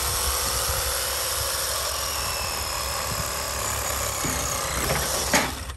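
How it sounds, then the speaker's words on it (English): Electric saw trimming the sharp tip off a miniature zebu bull's horn, a steady loud buzzing drone running throughout with a brief harsher burst near the end, no talking. "I'm ready with the electric saw"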